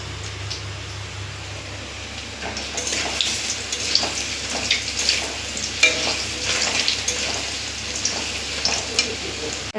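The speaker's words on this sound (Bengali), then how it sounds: "আলু পটলটা আর আলুটাও ভাজছি" Potato and pointed gourd fry in oil in a wok, giving a continuous crackling sizzle with bursts of stirring and spattering that grow busier after the first few seconds.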